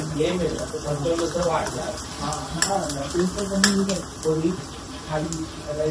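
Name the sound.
tomato being sautéed and stirred in a pan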